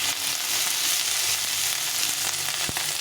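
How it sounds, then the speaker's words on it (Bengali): Flat beans, potato and eggplant fry in a pan with a dense, loud, continuous sizzle up close, broken near the end by a single sharp clink of a utensil, with no voices. "সবগুলোকে এরকম ভালো করে ভেজে নিতে হবে।"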